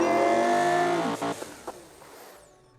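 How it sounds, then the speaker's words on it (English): A loud video game race car engine in Automation revs high with harmonic whine, then drops off with a few sharp pops as the sound fades out. "it is super loud, so you probably can't even hear me over the noise of its engine!"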